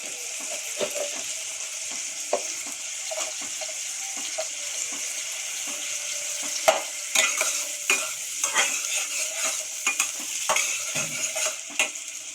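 Onions frying in oil as the base of a dal and egg curry, a steady bright sizzle broken by frequent scraping strokes of a spoon stirring the pan, close and continuous with no voices.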